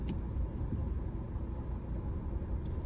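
Steady low rumble of a vehicle rolling along an inner campus road at CUSAT, a continuous engine and road noise heard from inside, with no talk.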